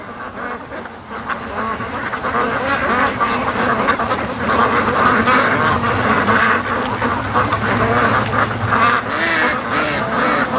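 A flock of alarmed ducks keeps up loud, overlapping quacking on a lake for several seconds, with rough honking calls threaded through the steady, agitated chorus.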